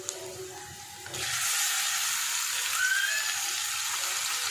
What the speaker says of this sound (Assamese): পিঁয়াজখিনি ব্ৰাউন কালাৰ হৈছে এতিয়া মই চিকেনখিনি ঢালি দিম